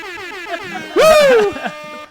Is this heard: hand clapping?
no